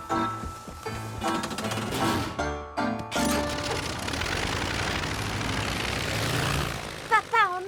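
A cartoon airplane engine hums steadily as a busy mechanical drone through most of the stretch, with a brief dropout midway and whistling tones near the end, while animated characters talk over it.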